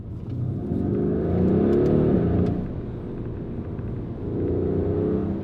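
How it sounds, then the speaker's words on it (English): Mercedes-AMG GLC 63 S Coupe with its twin-turbo V8 and AMG performance exhaust valves open, giving a loud, deep engine rumble that swells twice in steady revving surges with no talk. "you can hear the exhaust just opens"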